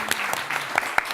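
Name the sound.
audience applause for Zara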